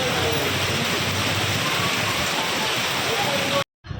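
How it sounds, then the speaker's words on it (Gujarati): A heavy downpour in Bhavnagar roars as a dense, steady wash of water noise that fills the clip before cutting off abruptly near the end. "વરસાદ રહેવાનું નામ નહોતો લેતો, ધોધમાર વરસાદ પડી રહ્યો"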